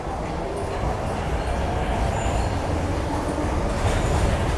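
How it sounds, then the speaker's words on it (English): An MTR metro train rumbles at the platform of Kwun Tong Station, a loud continuous roar of rolling wheels with faint rail clatter and no distinct speech. "There's a C train there going to Till Keng Lang now."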